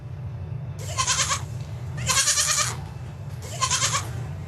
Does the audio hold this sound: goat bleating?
yes